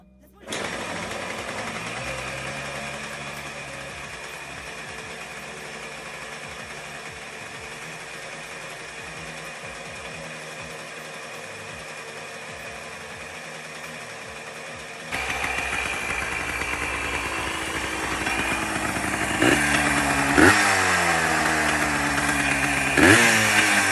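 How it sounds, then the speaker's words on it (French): A Yamaha Blaster 200 engine runs with a steady buzzing drone, then gets noticeably louder about two-thirds through, with sharp revs near the end. "Je vous mettrai peut-être des extraits de la mise en route du blaster"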